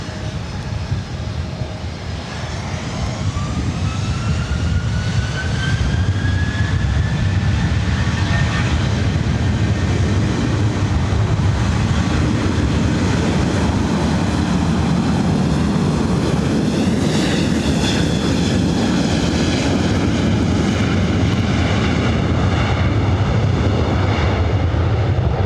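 Southwest jet taking off from runway 24 right at LAX, engine roar swelling over the first few seconds into a loud sustained thunder with a rising whine, steady and close throughout.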